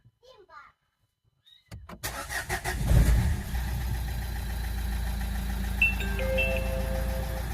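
Renault Megane 1.5 diesel engine cranks and catches after fresh oil and filter, then settles into a steady low idle, with a brief voice and faint chimes early on.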